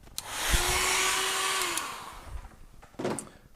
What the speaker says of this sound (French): On va sécher un peu au sèche-cheveux.